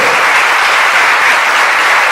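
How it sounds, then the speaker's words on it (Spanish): A church congregation breaks into loud, dense applause, a continuous close roar of many hands clapping together. "Démosle gloria y alabanza a Jesucristo con un fuerte aplauso"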